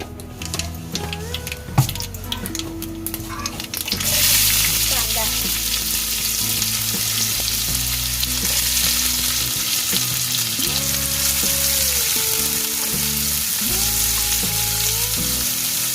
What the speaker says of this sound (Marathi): वरतून आता तेल घालून घेतलंय मी फोडणी द्यायला इथे सर्वात पहिलं राई घालून घेतली